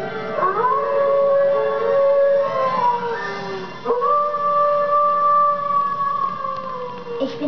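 A dog howling in long drawn-out wails, two sustained mournful howls with rising and falling pitch, fairly loud and close, with no talking.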